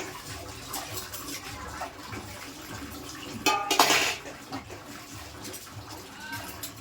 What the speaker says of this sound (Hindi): ये बर्तन धो रहे हैं, सुबह सुबह का टाइम है दोस्तों।